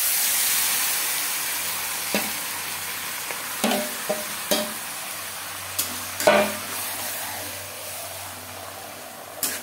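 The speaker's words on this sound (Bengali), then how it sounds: "ম্যারিনেট করা চিকেন বেশ ভালো করে মিক্স করে দেবো।" Marinated chicken sizzles and fries with lightly browned onions in a kadai, a steady hiss broken by occasional sharp scrapes and clinks of stirring.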